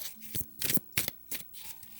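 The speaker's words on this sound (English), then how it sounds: "Sorry about all the shuffling, but I'm a firm believer in shuffling." Tarot cards are shuffled in quick, uneven bursts of crisp riffling and slapping, close and clear with no talking.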